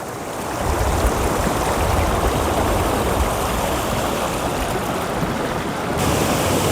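A waterfall pours over rocks in the Kadiya Dhro river canyon in Kutch, a loud, steady broadband rush of water that holds constant throughout without pause.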